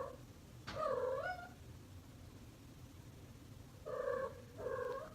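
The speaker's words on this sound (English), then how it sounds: "Can you guys hear my cat? She's chilling in here too." A pet cat makes a few close, soft vocal sounds, one drawn-out call followed after a pause by two shorter ones, over a low, quiet background hum. No one speaks.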